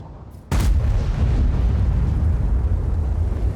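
Artillery fires in World of Tanks with one sudden heavy boom, followed by a loud, rumbling roar that holds steady for several seconds.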